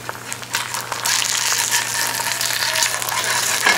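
Food frying in a Borough Furnace cast iron skillet, a dense crackling sizzle that swells after the first second and holds steady, close and fairly loud with scattered pops.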